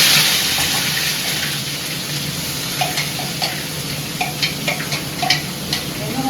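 Ground spice masala for stuffed eggplant roasting in hot oil, a steady close sizzle with intermittent stirring scrapes and spatters.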